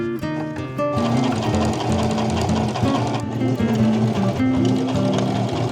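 A sewing machine stitches a seam on thrifted clothing, running in a fast, steady mechanical chatter close by, with short pauses and changes in speed and no talking.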